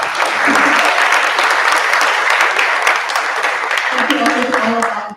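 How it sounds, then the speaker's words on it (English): An audience at a film festival closing ceremony applauds volunteers with a dense, sustained round of clapping that carries on at full strength before tailing off, with cheers and voices mixed into the crowd. "Give a big round of applause to them"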